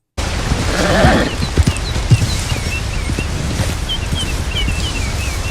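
Horse wading across a river current in Red Dead Redemption 2, splashing and sloshing heavily with a few hoof thumps near the start, steady rushing water and scattered chirping birds behind.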